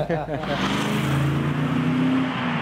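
A V8 car engine runs with a steady, loud mechanical drone and rising tonal whine, heard close, with voices talking over the start.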